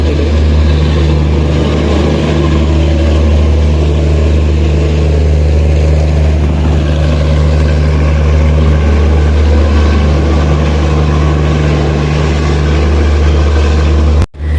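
Netravati Express train passing in an overtake, a loud, steady low rumble with strong hum lasting throughout and cutting off abruptly at the end.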